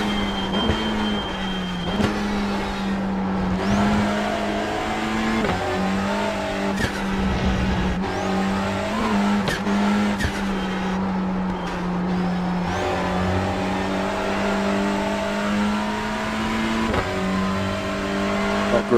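A race car engine in the iRacing sim, lapping a circuit, roars loud and close throughout, with steady high revs, brief dips at gear changes and rising pulls between them. No one speaks.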